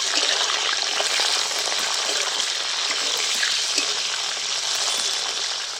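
Drumsticks and flat beans fry hard in a pan of hot oil, a dense, continuous crackling sizzle that holds at an even loudness from start to finish with no talk.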